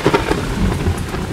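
Heavy rain pours down steadily with rumbling thunder beneath it, a dense, continuous wash of sound at close range with no voices.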